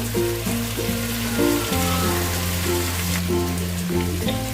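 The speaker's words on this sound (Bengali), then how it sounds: "এইভাবে কি চিকেনগুলো একটু ভাজা ভাজা হয়ে যাবে" Marinated chicken pieces fry and crisp in a pan, giving a close, continuous spitting sizzle under steady background music.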